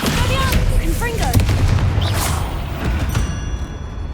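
Confringo blast spell in Hogwarts Legacy, loud booming magical impacts and crackling bursts layered over dense game sound, with a voice shouting in the mix.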